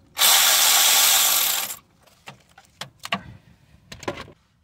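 Power tool removing the number 5 ignition coil pack from a Ford E-Series van's 5.4L engine, a loud burst of whirring ratchet noise lasting over a second, followed by several sharp metallic clinks and knocks from handling the part.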